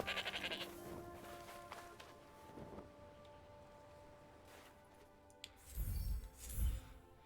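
A few sheep bleats from the video game Forspoken, short and fairly close, with sparse game ambience and a couple of dull low thumps near the end.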